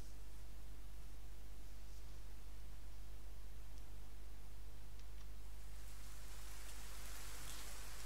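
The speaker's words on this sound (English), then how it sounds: "Oh, it's raining." Steady rain falls in the puzzle video game Doors Paradox, a soft, even hiss of drops on surfaces with a low constant hum underneath, quiet and unbroken.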